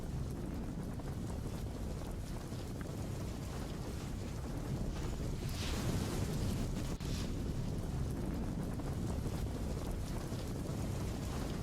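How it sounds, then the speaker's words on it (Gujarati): Continuous broadband wash of heavy downpour in rural Jesar, Bhavnagar, Gujarat, steady and fairly loud, with low rumbling wind noise and no voices. "ગ્રામીણ વિસ્તારમાં પણ ધોધમાર વરસાદ યથાવત છે"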